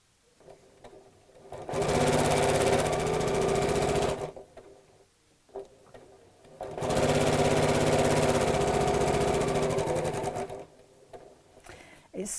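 A sewing machine chain-pieces bunting triangles in two steady bursts of rapid, loud stitching, separated by a short pause with faint handling sounds.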